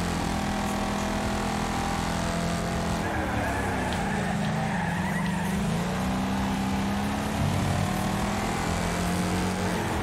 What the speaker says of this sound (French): j'entends un petit bruit. Je pense qu'il y a quelque chose qui traîne au sol.